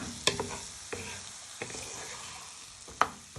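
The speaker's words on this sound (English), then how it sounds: "you just want to give them a little bit of a stir so they get colour on them" Potatoes for a Spanish tortilla fry in a pan with a steady, moderate sizzle, while a spoon or spatula stirs them with a few sharp clacks and scrapes against the pan, spaced unevenly.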